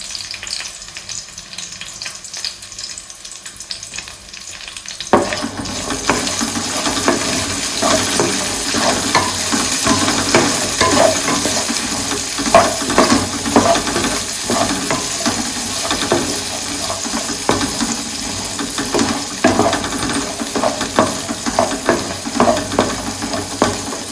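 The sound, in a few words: shallow frying onion slices in a pan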